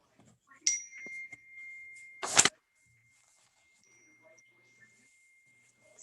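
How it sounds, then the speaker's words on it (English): A bell rings in a quiet room: a brief tonal chime, then a louder, sharp metallic burst of ringing a moment later, followed by lingering faint tones and near silence. "is that bell at your house or my house?"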